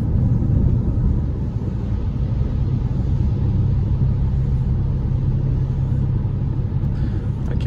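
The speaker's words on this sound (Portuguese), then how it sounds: "Aqui faz uma ressonância bem grande no carro, por causa dos pneus aqui no chão." A 2022 Jeep Compass Longitude T270 on a grooved tunnel road gives off a loud, constant low tire rumble and droning resonance inside the cabin, steady with no pauses.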